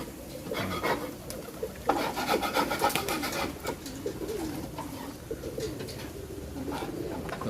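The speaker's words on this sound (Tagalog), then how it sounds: "So yan yung mga kalapati natin." Pigeons kept in a cage coo softly and shuffle about, with scratchy rubbing and rustling sounds, faint wing flaps and scattered bird calls, close by and fairly quiet.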